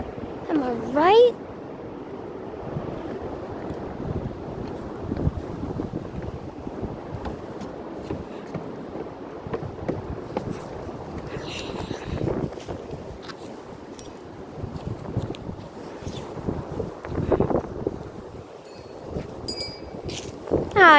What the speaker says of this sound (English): Those are some big wind gusts. Those are some huge gusts right there.